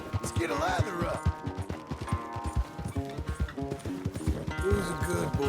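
A horse gallops in Red Dead Redemption 2, with rapid, repeated hoofbeats close by mixed with soft music and a short whinny near the start.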